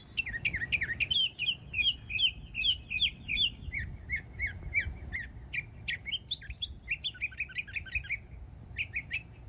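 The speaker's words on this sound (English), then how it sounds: "It was the mockingbird." A mockingbird singing in a rapid, varied stream of bright chirps and trills, repeating short phrases in quick bursts, fairly close and clear over a low outdoor rumble, with no talk.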